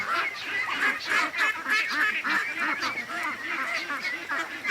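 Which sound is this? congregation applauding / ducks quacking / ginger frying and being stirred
ducks quacking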